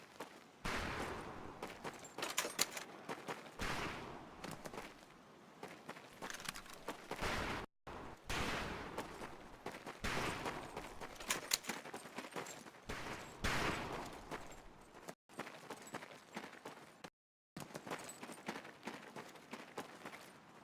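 Rifle gunfire at a shooting range in the PUBG video game, a steady, fairly faint stream of overlapping shots and sharp cracks that runs for about twenty seconds with only brief gaps.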